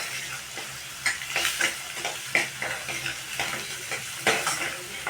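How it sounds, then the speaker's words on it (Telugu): Green chillies fry in a pan with turmeric and salt, a steady close sizzle broken by repeated scraping stirs of a spoon against the pan, with no talking. "పచ్చిమిరపకాయలు కొంచెం పసుపు ఉప్పు వేసేసి ఇవి వేగుతుంటుంది."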